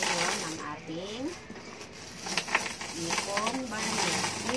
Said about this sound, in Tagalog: Magbilang tayo ngayon ng barya.